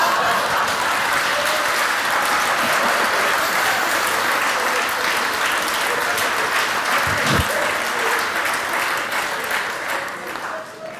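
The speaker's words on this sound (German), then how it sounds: "Danke für den Applaus." An audience at a poetry and verse performance in a hall claps loudly and steadily for several seconds after a poem, a dense wash of applause that slowly thins toward the end.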